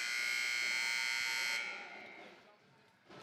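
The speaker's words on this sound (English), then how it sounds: "Buzzer sounds" Hockey arena period buzzer at a girls' high school game, a loud sustained electronic tone holding steadily for about a second and a half before cutting off, leaving crowd murmur and faint voices in the reverberant rink.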